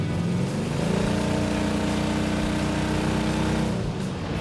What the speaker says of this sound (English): This is pretty spunky for a motorhome engine.